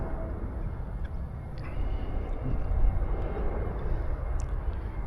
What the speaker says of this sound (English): Right, real plane's coming in.